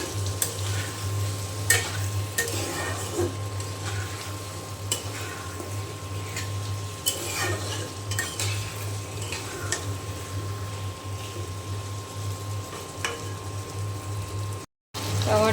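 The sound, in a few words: taro being sautéed with spices in a pan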